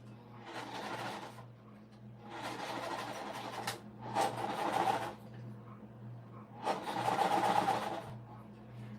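A sewing machine chain-stitches quilt pieces for a puff quilt pillowcase, running in four bursts of a few seconds each with short pauses between, a steady mechanical whir over a low hum.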